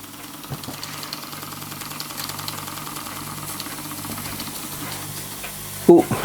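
A small Myfordboy wobbler model steam engine runs quietly, a faint rapid rhythmic ticking and chuffing that holds steady, ending with a couple of sharper clunks.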